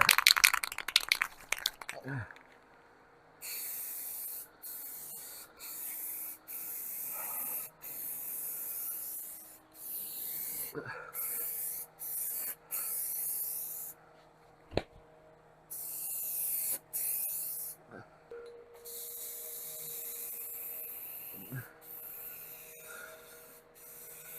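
Repeated bursts of aerosol spray coating the inside of a VW Beetle trunk along the guide rail seal channel, each hiss lasting a few seconds and separated by short pauses, close and steady, with faint handling noises between bursts.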